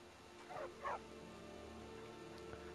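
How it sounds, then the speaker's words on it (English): A dog in the Skyrim fantasy role-playing game gives two quick soft woofs close together near the start, quiet over a low game ambience with a faint hum. "Hello, doggy."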